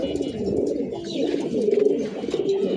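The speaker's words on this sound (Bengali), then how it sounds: "এখানে নর কবুতরগুলো ছিল এবং আমি আপনাদের সবার উদ্দেশ্যে এখানে মাদি কবুতরগুলো দেখাই" Pigeons in a loft, males and females after molting, coo continuously in a dense, overlapping chorus of low burbling calls, close and fairly loud, with no talking.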